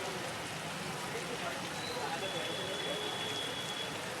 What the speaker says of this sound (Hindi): जयपुर में लगभग सभी इलाकों में बरसात का दौर जारी है।